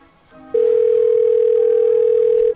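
A phone outgoing FaceTime call tone: one sustained, loud, steady electronic beep lasting about two seconds after a brief quiet moment, with no talking.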